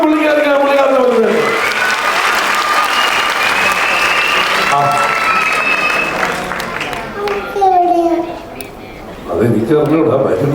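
Audience applause at a stage event in Kerala, a steady broad wash of clapping for several seconds with voices talking over it, easing briefly near the end before picking up again.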